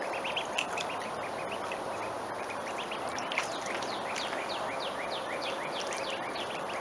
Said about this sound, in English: I've got hungry duckies.